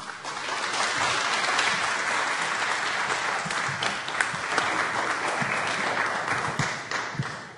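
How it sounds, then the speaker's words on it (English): Warm applause greets Minister Hussen, building quickly to a full crowd clapping with a few sharper individual claps standing out, then tapering slightly near the end. "let's give him big applaud and warm welcome"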